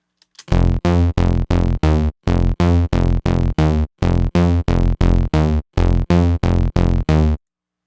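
A loud, buzzy trance synth bass plays a rapid pulsing pattern of short, evenly gated notes, rich and bright, repeating in bars with brief gaps.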